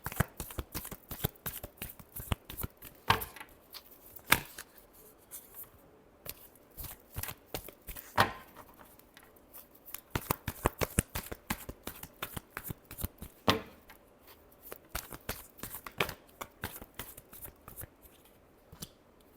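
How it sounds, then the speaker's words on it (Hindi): Tarot cards are shuffled in a long run of crisp riffling bursts and sharp taps close up, fairly quiet, with brief pauses between shuffles and no talk. "Last shuffle."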